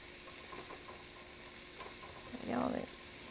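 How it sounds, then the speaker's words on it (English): Mushrooms sizzle in a pan, a steady faint crackle with a louder hiss and scrape near the end, heard close up and without talk. "ooh, sizzle"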